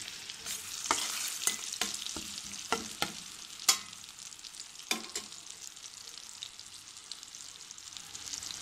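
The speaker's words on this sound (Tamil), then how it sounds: "எல்லாத்தையும் ஒரு கரண்டி வச்சு கிள்ளி விடுங்க." A ladle stirs tempering frying in a pan for ven pongal, giving sharp, irregular clinks and scrapes over a faint steady sizzle, close and fairly quiet.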